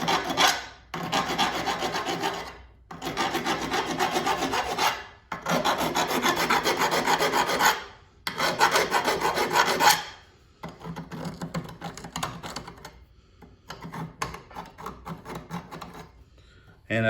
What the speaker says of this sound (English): just kind of take a file, get rid of all the burrs out of there